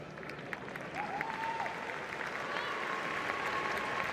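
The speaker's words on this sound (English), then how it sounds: "Nice round of applause." A stadium crowd at a women's football match between Bayern Frauen and SGS Essen applauds with steady clapping that swells after the first second and carries on, with a faint whistle and distant voices mixed in.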